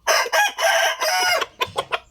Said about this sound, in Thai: เป็นไก่สวยนะครับ